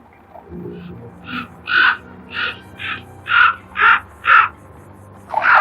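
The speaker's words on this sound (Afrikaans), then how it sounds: "dis net kraaie" Crows caw about eight times in loud, separate calls spaced roughly half a second apart, fairly close and with nothing else competing.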